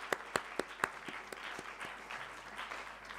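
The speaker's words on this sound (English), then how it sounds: "Give yourselves a bigger round of applause for yourselves" Graduates at a convocation ceremony applaud themselves. A few sharp, distinct claps sound nearby at the start, then the applause settles into softer, steady clapping from the room.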